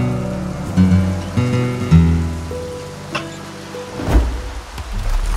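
Steady rain in the video game Far Cry 6 patters over a dense wash of game ambience and low music, with occasional louder splashes and thuds mixed in.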